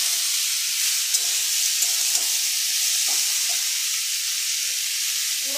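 Bottle gourd frying in a pan for a crab and gourd curry, with thin potato slices in it: a steady, close hiss of sizzling runs throughout, with soft scraping of stirring and no talk.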